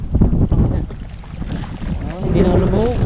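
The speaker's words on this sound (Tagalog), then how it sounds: "Ito yung malakas ang hangin." Strong storm wind beside a swollen river buffets the microphone in loud, rumbling gusts throughout, with voices talking over and under the roar.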